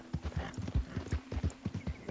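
Quick rhythmic hoofbeats of a galloping horse in the video game Red Dead Redemption 2, close and steady, with a brief whinny mixed in.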